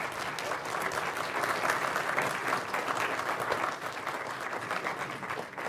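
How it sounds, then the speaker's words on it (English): Sustained applause from the audience for panelists at a climate change talk, a dense, steady wash of many hands clapping together, fairly close and even in level throughout, with no speech over it. "let's give a big round of applause to our panelists"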